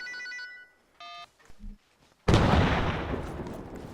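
A truck bomb detonates in the Arma 3 video game after brief phone ring tones, a sudden loud, broadband explosion boom that rolls on and slowly decays into rumble.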